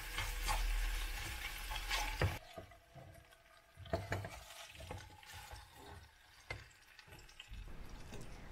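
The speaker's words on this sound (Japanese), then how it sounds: "トマトとケイパーを鍋肌で軽く炒めます。" Tomatoes and capers sizzle and hiss in a hot pan while a utensil stirs and scrapes in short strokes, with no talking.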